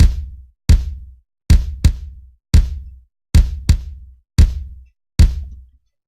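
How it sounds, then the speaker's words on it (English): An acoustic kick drum sample from a real drum kit, sequenced in an FL Studio pattern: nine punchy low thuds, some in quick pairs, each decaying fast, loud and dry with nothing else playing. "which is real drums kick, so it sounds like this."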